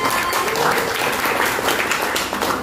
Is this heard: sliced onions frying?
no